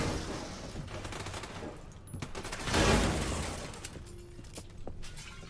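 Gunfire in the video game The Division 2, with a dense volley of sharp shots that swells to a loud burst midway and then trails off into scattered cracks over a noisy background.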